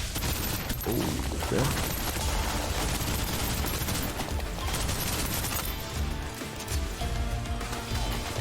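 Sustained suppressive gunfire in the sci-fi shooter Snowbreak: Containment Zone, a dense continuous barrage of rapid shots lasting throughout, loud and close, with a brief spoken remark over it.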